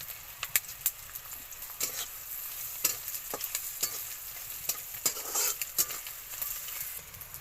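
Cinnamon and garam masala splutter in hot oil for a cabbage dish with prawns and peas, a low hiss broken by irregular sharp pops and stirring clicks.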